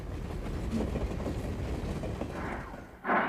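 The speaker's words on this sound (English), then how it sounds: "a westbound train passes by, carrying military equipment" A westbound freight train carrying military equipment rolls past, a loud steady rumble of wheels and cars with rhythmic rail clatter, ending in a sudden sharp metallic squeal.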